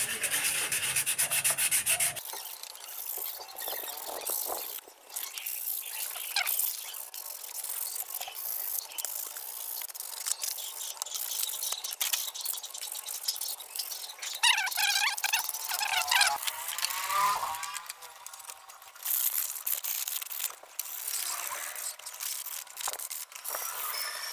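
Hand sanding a Honda Wave Alpha 110 body panel with 120-grit sandpaper outdoors: steady, close rasping strokes that continue almost without a break throughout, with no talking.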